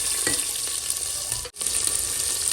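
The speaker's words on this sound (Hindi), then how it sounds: "तो इसमें अब डालेंगे यहाँ पे जीरा, फिर डाल देंगे प्याज" Cumin seeds and onion frying in a pan, a dense steady sizzle with a few stirring knocks and one brief drop to near silence midway before the hiss resumes.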